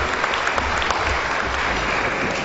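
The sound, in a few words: audience applause at an association event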